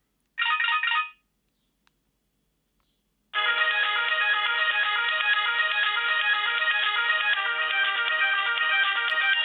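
Polyphonic ringtone from an old Motorola C350 candy-bar mobile phone: a short burst of melody, a pause, then a continuous ringing tune playing loudly and steadily to the end.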